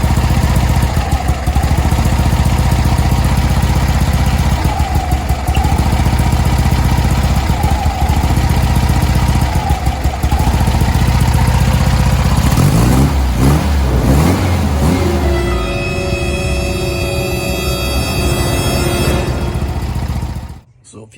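Air-cooled VW engine with a faulty Pertronix electronic ignition, running loud and close at idle, dipping and stumbling repeatedly, then revving unevenly and stuttering before cutting out at the end.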